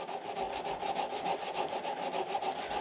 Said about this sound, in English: use your sandpaper here and pull this in. Just get the finish.